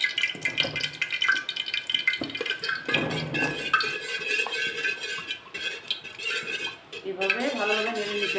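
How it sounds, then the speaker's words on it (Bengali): A spoon scrapes and clinks against a pot as washed basmati rice is stirred in ghee, with irregular close-up metallic taps and rustling grains running throughout. "এভাবে ভালোভাবে নেড়ে নিতে হবে যাতে তেলের সাথে মিক্স হয়ে যায় আর চালটা যাতে না লাগে"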